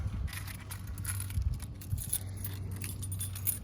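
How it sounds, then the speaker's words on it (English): A Ford Mustang EcoBoost key fob and its ring of keys jangle and clink close by in brief metallic bursts, with no talk over them. "so of course you have your key fob, which has lock, unlock."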